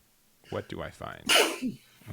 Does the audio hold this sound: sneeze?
yes